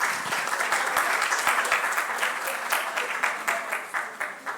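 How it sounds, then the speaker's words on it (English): A campus audience gives a warm round of applause for a panel discussion on peace and dialogue, dense steady clapping throughout, close and loud, with no talking. "Give again the panelists a big hand and a big applause."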